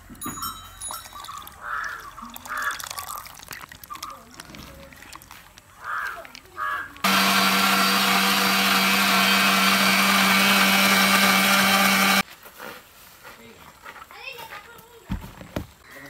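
A mixer grinder blends beetroot with milk for a red juice, a loud steady whirring roar lasting about five seconds, bracketed by people talking and children's voices in an outdoor village kitchen.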